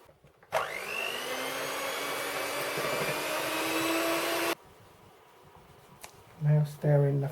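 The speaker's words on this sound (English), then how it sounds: "Beat the egg and milk." An electric mixer beats egg and milk for a Maids of Honour pastry recipe, a steady close whirring drone lasting about four seconds that stops abruptly, followed by a brief voice speaking.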